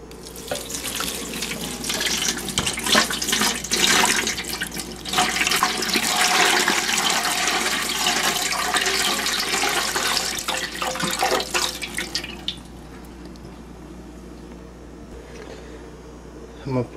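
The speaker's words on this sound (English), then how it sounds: "Pour the water in." Water pours steadily into a pot of tamales with a loud rushing splash for several seconds, then the flow stops and only a faint trickle and drips remain.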